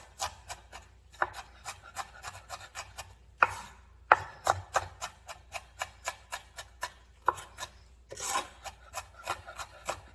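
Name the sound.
chopping vegetables finely with a knife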